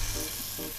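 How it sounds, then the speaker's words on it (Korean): Meat searing in a frying pan, a steady broadband sizzle holding throughout the short stretch, close and moderately loud with no talk over it. "고기가 이때쯤 다 끝나면은 어느 정도 이제 갈색이 나게 지져졌을 거예요"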